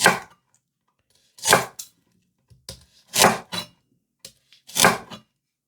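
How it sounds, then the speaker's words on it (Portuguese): Knife cutting leek into finger-length pieces on a board, a few separate clusters of sharp chops with pauses between, close and clear with no talking. "Agora vamos cortar o alho poró, aqui mais ou menos no comprimento de 2 dedos"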